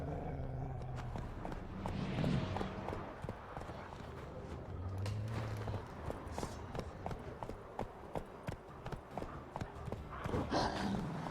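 Roach, a horse in The Witcher 3, trotting with a steady run of hooves clip-clopping, plus an occasional snort amid game ambience and a voice speaking over it.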